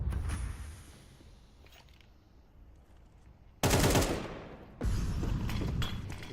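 Automatic gunfire bursts out during a Counter-Strike esports match, with a faint shot early on, a quieter stretch, then two loud sustained volleys of rapid fire close together.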